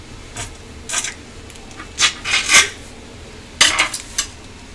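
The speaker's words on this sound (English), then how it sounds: "You're going to slice them in half and then slice them again crossways." A knife slices through a stack of corn tortillas on a board, giving short scraping cuts in irregular bursts, close and crisp with no talk.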